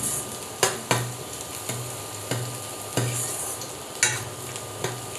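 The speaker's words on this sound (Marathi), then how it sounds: "हा कांदा जो आहे तो आपण गुलाबी रंगावर परतून घेऊया।" Onion sautéing in a pan, a steady low sizzle punctuated by regular scraping strokes of a spoon stirring, roughly once a second, close and alone with no talking.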